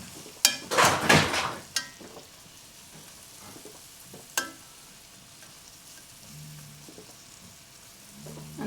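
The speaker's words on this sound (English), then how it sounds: "I'm just going to cook this for about 10 minutes until these vegetables get nice and soft" Vegetables fry in a pot with fresh herbs, a loud crackling sizzle flaring up near the start, then settling into a quieter, steady hiss with a few scattered stirring taps and clinks.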